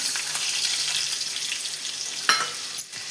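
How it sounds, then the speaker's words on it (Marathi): Butter sizzles in a kadhai for white sauce pasta, a steady close hiss of frying with a couple of sharp utensil clinks near the end. "इकडे मी कढई ठेवली आहे, तर यात आपण सर्वात प्रथम बटर टाकून घेणार आहोत।"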